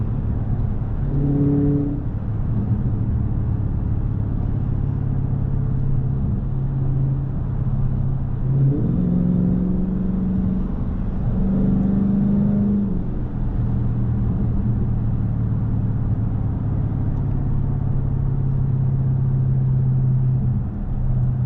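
Steady low road rumble from cars driving by, one after another, with engine tones rising and falling in the middle; no one speaks.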